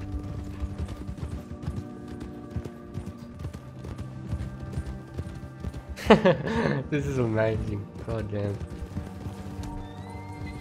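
Donkey hooves clopping along with whinnying in the Red Dead Redemption 2 video game, a steady background of game sounds with a loud braying burst midway, while people talk over it.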